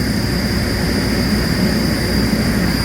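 A 3D-printed plastic compressor cooling impeller spins at 3600 rpm, giving a loud, steady whirring roar with a constant high whine, continuous throughout with no talk.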